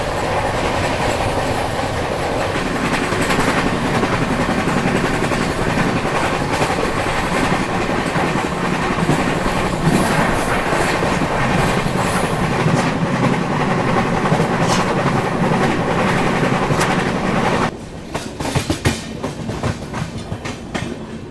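Gondwana Express passenger train rolling along the rails toward Malkapur, a steady loud rumble with clickety-clack of wheels over joints throughout, the sound thinning out in the last few seconds as it eases off.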